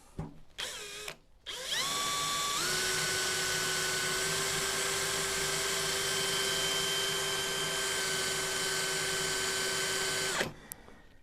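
An old 20-year-old aircraft drill bit bores a pilot hole for a 3/8 bolt in a custom welder lifting lug, a steady loud whine held for about eight seconds after brief starts and stops, pitch stepping up once early on.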